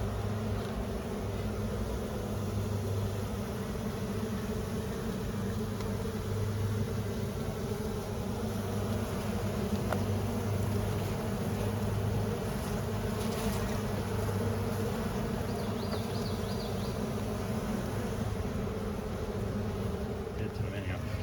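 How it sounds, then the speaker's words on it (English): Honeybees at a hive about to swarm make a continuous low droning hum, steady and fairly close, with faint handling noises mixed in. "This hive is hell-bent on swarming."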